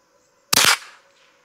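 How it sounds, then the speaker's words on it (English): A single loud, close crack from a .22 squirrel rifle fired at an outdoor target, with a short trailing echo and no talk. "Let's shoot another group up at the top right target."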